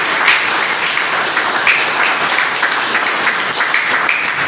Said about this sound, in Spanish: Denle un aplauso a Él, aleluya